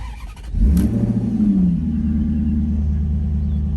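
A 2012 Maserati GranTurismo MC cranks briefly and fires into a loud, sharp revving bark, then drops to a deep, steady cold idle, heard up close.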